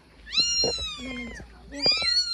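A kitten meows twice, close and fairly soft, each call a rising then falling cry, with faint rustling and murmured voices in between.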